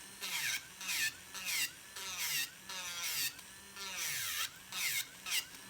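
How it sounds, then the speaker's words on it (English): A high-speed electric nail file files off gel polish, a whining buzz that rises and falls in short repeated bursts as the bit pitches up and down against the nail. "Now I'm over here, filing this off over here, so out of the camera. Let me turn it on real high so it'll go faster."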